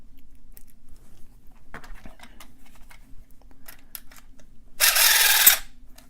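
A Master Lock No. 3 padlock is picked with a tension wrench and a pumpkin-carving tool, giving faint, sparse metallic clicks and scrapes and one louder rasping burst near the end.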